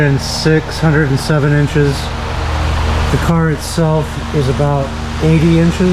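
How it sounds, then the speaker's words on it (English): An electric fan runs in a garage or shed, giving a steady broadband whir beneath nearly continuous close-up talking. "sorry about the fan noise"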